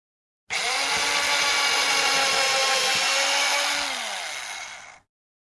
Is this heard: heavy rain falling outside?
no